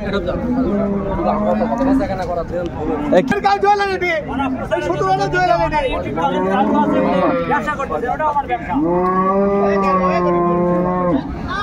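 Several long, loud moos close by, one after another, from a Jersey dairy cow with calf at a cattle market, with faint crowd chatter in the background.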